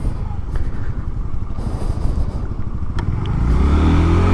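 An FKM Juke 150 motorcycle engine rumbles loudly and steadily, its revs climbing toward the end, with faint clatter and a voice mixed in.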